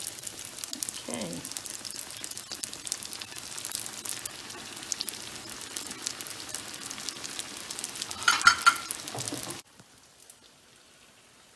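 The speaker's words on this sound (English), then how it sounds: "I have the heat on medium high, and they look like they're frying beautifully" Pizza dough frying in oil in a pan over medium-high heat, a soft continuous crackling sizzle like light rain with a few brief louder bursts, fading out near the end.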